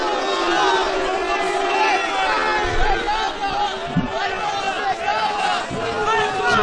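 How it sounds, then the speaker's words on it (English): A crowd murmurs restlessly at an MMA fight between two fighters, a broad hubbub with scattered shouts and thuds under a commentator's steady talk. "the crowd getting a little restless here"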